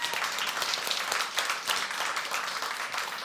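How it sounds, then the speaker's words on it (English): A conference audience applauds the panelists and speakers with dense, steady clapping from many hands that holds evenly throughout. "Can we have a round of applause for each and every panelist and speaker now?"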